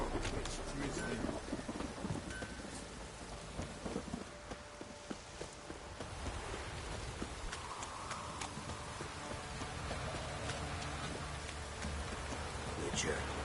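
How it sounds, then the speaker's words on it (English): Light rain patters steadily in The Witcher 3, a soft continuous hiss under other game ambience with brief faint clatters and movement noises throughout. "oh, it's drizzling."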